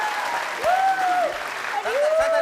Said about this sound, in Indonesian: kita kasih tepuk tangan untuk Niken